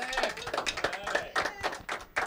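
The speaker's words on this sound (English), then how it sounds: "Let's give him one more round of applause for an awesome, awesome performance" Applause for a live performance in a radio studio session: a short burst of rapid hand clapping from a small group, close and fairly loud, with uneven rhythmic pulses.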